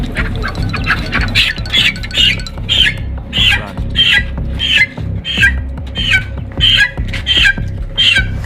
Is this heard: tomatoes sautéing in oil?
no